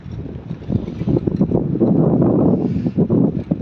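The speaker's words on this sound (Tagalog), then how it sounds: "Lakas ang hangin," Strong wind buffets the microphone in loud, uneven gusts, a rumbling roar that swells and dips throughout without any voices.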